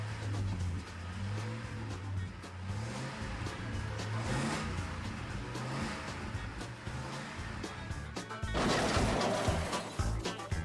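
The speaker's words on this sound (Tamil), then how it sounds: "அடுத்து கூலா இருக்கிற இந்த மான்ஸ்டர் ட்ரக் இதுக்காவது பேக் ஃபிளிப் படிக்கிற லக் இருக்கான்னு பார்க்கலாம்" A monster truck runs its engine loud and close, a steady rumbling drone at an arena event that surges into a louder roaring burst near the end as it attempts a backflip.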